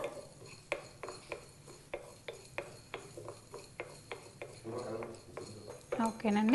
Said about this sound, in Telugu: హాఫ్ స్పూన్ ధనియాలు వేయాలి వేసి పచ్చివాసన పోయే వరకు వీటిని వేయించుకోవాలి వితౌట్ ఆయిల్